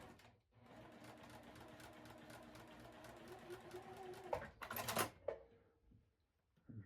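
A sewing machine stitches a quilt block in a steady, fast mechanical run for about four seconds, then stops with a few clunks and handling noises before falling quiet.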